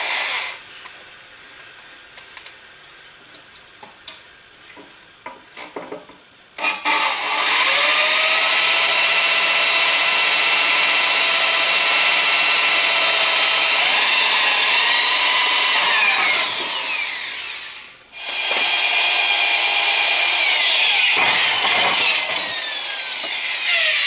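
A loud, steady grinding whine of a bit against a sharpening wheel runs for long stretches, briefly dropping off and then resuming, after a quieter start.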